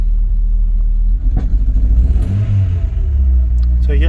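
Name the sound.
Rover 820 car engine revving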